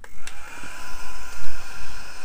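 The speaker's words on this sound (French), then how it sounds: "je vais mettre un petit coup de ventilo" An electric fan runs with a steady, loud whirring hum and airy rush close by, with a couple of brief clicks near the start.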